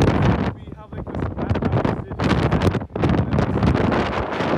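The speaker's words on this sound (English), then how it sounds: "just so windy" Strong gusts of wind buffet the microphone outdoors in Victoria, BC, producing loud rushing and rumbling bursts that rise and dip throughout, with people talking underneath.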